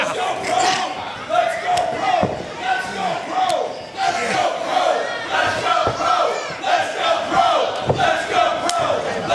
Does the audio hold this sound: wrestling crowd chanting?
yes